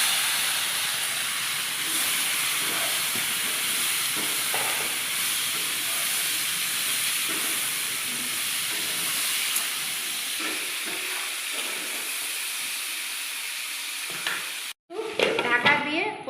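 Bottle gourd sizzles and fries in a hot pan, a steady hiss that runs for a long stretch with faint stirring clicks, then is briefly cut off near the end by handling noise.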